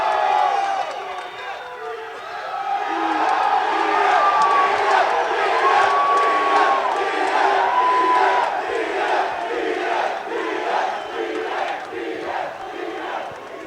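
A packed crowd cheers, whoops and shouts for Nate Diaz at a UFC 263 press conference, a sustained loud roar with rising yells and calls that swells and ebbs throughout.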